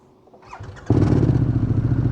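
A Harley-Davidson Pan America motorcycle engine starts: a short whirring crank, then the engine catches and runs with a loud, steady, throbbing idle, close by with no voices.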